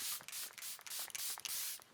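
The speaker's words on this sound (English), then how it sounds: "So let's give this a good spritz" Charlotte Tilbury Airbrush Flawless Setting Spray spritzed close up, a rapid run of about eight short hissing pumps in an irregular rhythm, crisp and alone with no talk.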